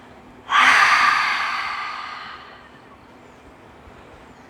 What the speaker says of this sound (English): breathing out with a sound